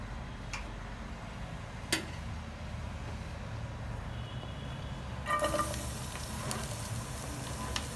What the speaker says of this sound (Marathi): एक कांदा हे फ्राय करून घ्यायचा आहे कांदा कांदा चांगला फ्राय व्हायला लागलाय